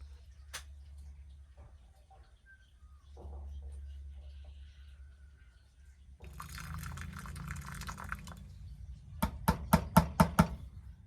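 Hot water pouring and dripping over the die-cast metal body of a Matchbox Lesney 36 Opel Diplomat toy car during restoration, with low rumbling flow and a few sharp knocks near the end.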